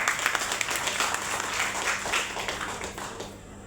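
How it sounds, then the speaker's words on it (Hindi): Applause from an audience at a health awareness program, a steady wash of many hands clapping at moderate level, fading slightly toward the end. "शानदार तालियां होनी चाहिए"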